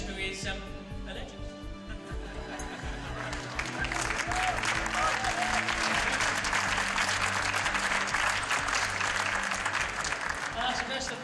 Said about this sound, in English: That's the best applause I've ever had in England